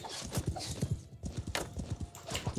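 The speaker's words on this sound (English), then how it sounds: "It's time to send in the horse archers." Horses gallop in Mount and Blade, a rapid, steady clip-clop of hooves drumming close and moderately loud, with a faint whinny mixed into the running hoofbeats.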